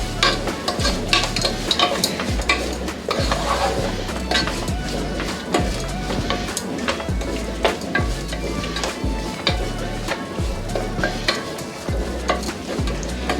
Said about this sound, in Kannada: ಆ ಹಸಿ ಘಾಟೆಲ್ಲ ಹೋಗೋ ತನಕ ಇದನ್ನು ಇದೇ ರೀತಿ ಫ್ರೈ ಮಾಡ್ಕೊಳ್ಳೋಣ.